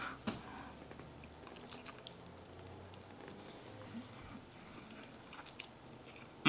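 Close, quiet chewing of cooked invasive carp flavoured with garlic and herbs, soft wet bites and mastication in an irregular rhythm with small clicks, no talking.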